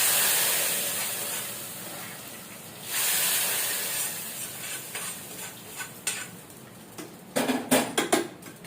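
A reddish tempering tipped into cooked dal in a pan gives a sudden loud steamy hiss that fades, then gives way to a string of stirring scrapes and clanks that grow sharper toward the end.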